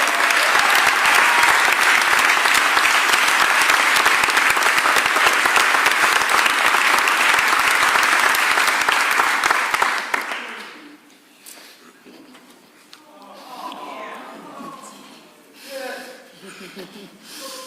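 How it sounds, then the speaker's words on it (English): Loud, dense audience applause at a mayor's public address marking the end of a municipal workers' strike, sustained for about ten seconds before cutting off, followed by quieter murmurs and voices. "I want you to give a super round of applause to Crystal Jacob Shipman, our sanitation."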